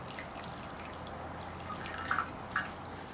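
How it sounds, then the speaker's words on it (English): Lelit PL62T Mara lever espresso machine during extraction, a few soft, sparse drips of coffee over a low, steady machine hum, quiet and close, without speech. "To start the extraction, pull the lever all the way up."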